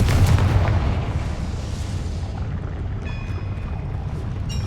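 Fiery Confringo blasting spell from a Harry Potter video game on hard difficulty: a loud rumbling blast at the start, fading into a sustained low roar with a faint tonal ring near the end.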